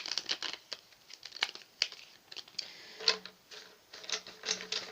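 Tarot cards being shuffled by hand, soft riffling and flicking clatters in irregular bursts, close and quiet, with no talking.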